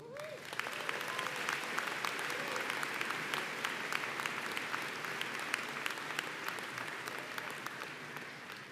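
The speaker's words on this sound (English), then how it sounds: "Can we give Mark one more round of applause?" Steady, continuous applause from a large audience at a university commencement ceremony, filling the whole stretch at moderate distance with crisp individual claps standing out from the wash.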